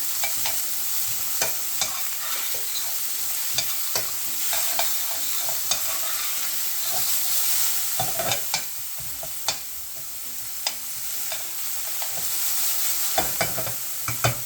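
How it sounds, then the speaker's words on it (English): Onions sizzle and fry in a pan while a utensil stirs them in repeated scraping strokes, a steady close crackle throughout with no talking, as striped bass steaks with sweet tomato sauce are prepared. "And stir that around for a couple minutes, keeping an eye on it."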